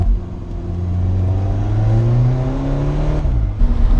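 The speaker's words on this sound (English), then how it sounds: "now sitting in and driving this Alfa Romeo 4C" Alfa Romeo 4C sports car engine pulling hard from the cabin, a loud rising growl through gears with a shift near the end, close and continuous.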